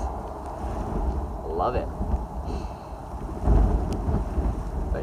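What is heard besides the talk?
wind and rain outdoors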